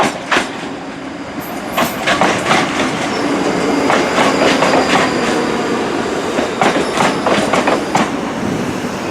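A Class 334 electric train pulls into a station, its wheels clacking rhythmically over rail joints with repeated sharp metallic clicks and squeals over a steady rolling rumble, close by and alone.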